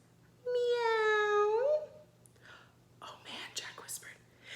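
A voice imitates a cat's meow in one long, rising-then-falling call, loud and near, during a storybook read-aloud; hushed whispering follows.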